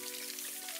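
In a cartoon, water splashes down as a dense, steady, rain-like wash that fills the whole brief moment, with no talking.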